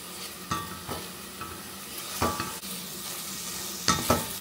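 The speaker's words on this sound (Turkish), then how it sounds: "Soğanlar bir güzel kavruldu. Şöyle biraz domates salçası." Browned onions sizzle quietly in a pan as tomato paste is stirred in for a simple iftar dish, with a spoon scraping the pan in a few sharp, separate strokes over the steady frying. No one speaks.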